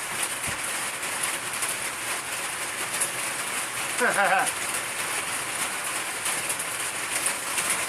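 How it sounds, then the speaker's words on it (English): Rain pattering outside as a steady soft hiss across the whole stretch, with a brief tonal chirp-like sound midway; fairly quiet and constant, no clear talk over it. "Yeah, the rain. The dog hates the rain."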